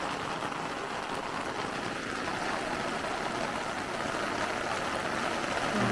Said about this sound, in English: It's raining like crazy here.